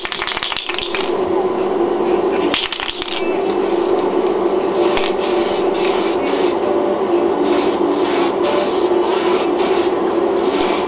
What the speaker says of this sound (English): And I'll spray the clear coat over it.